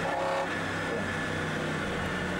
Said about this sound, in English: You're on board with Phil Hollins with his Morgan Plus 8 as the cars rumble their way up towards Paddock Hill Bend for the first time